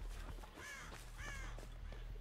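Crows cawing in the Dead by Daylight horror game, a few harsh caws repeating over a steady low hum of game ambience.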